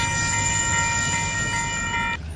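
A GVR heritage train and the Northern Explorer pulling out together, a loud steady rumble of rolling stock with sustained high whistle-like squealing tones over it, close and continuous before easing off at the end.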